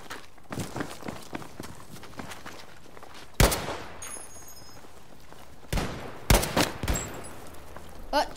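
Gunfire in a Battlefield match: scattered close shots and short bursts, with a few sharp loud cracks standing out over quieter clicks and footsteps-like rattles.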